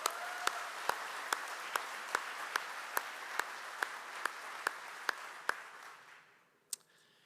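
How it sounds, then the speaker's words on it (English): An audience at a college convocation gives a collective round of applause, a steady wash of clapping with rhythmic sharp claps standing out, fading out near the end followed by one last clap. "let's give them all one collective round of applause"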